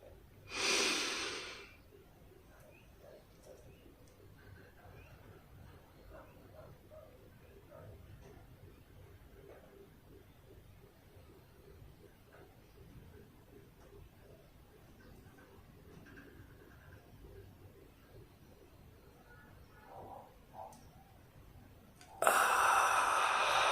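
A person doing a breathing exercise draws breath in through one nostril and holds it, with a loud sharp sniffing inhale at the start, a long quiet hold, and another strong breath near the end.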